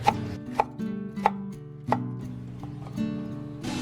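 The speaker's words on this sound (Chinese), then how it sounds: "最后我们再切一点小米辣跟那个螺丝椒" Bird's eye chilies and screw peppers chopped with a knife on a board, giving several sharp, close knocks spaced roughly half a second apart with softer cuts between them.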